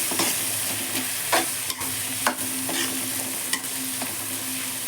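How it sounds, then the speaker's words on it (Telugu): Tomatoes frying in a pan with turmeric, a loud steady sizzle broken by several sharp scrapes and clatters of a spoon stirring, close up and with no talking. "ఈ టమోటా బాగా మగ్గిపోతుంది"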